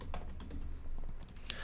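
Rapid clicking of computer keyboard keys while writing code, irregular light taps close by with no one speaking.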